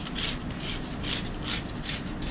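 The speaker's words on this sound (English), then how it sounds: "It does take some scraping to get that stuff out of there." Old fuzz being scraped out of a car's vent window division bar, heard as a steady series of rasping strokes, about five to six evenly spaced passes, close and moderately loud with no talking.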